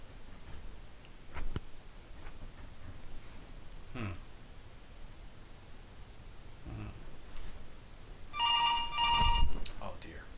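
Near the end, a telephone in the video game Where The Bees Make Honey gives one short, bright ring after quiet stretches of soft clicks and low background noise.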